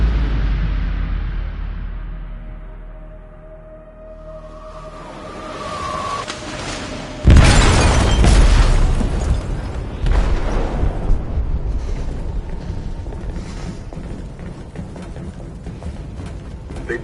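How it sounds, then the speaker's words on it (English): A deep, loud blast rips through a ship's hold in Detroit: Become Human. A quieter rumbling build-up comes first, and a long roaring, crackling wash of debris and noise follows the blast. "They detonated an explosive in the hold."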